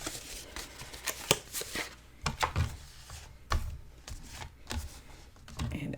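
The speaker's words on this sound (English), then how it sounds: "Actually, I think I'll use my paper trimmer." A paper trimmer cuts paper for a mini album craft, with scattered close clicks, sliding scrapes and taps from the blade and sheets, fairly faint, with no talking.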